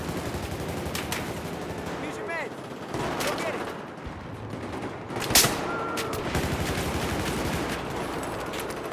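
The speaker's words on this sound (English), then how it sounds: "The AK actually feels really nice, the AK-12. Let's fire." Gunfire from an AK-12 rifle in the video game Battlefield, heard as several sharp bursts and single cracks over a dense, steady game soundscape, with one louder shot standing out near the middle.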